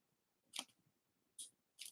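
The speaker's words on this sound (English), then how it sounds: "I'm just using my curved scissors here to" Curved scissors snipping V-shaped notches into foam, three quiet, crisp cuts spaced apart against near silence, no talking.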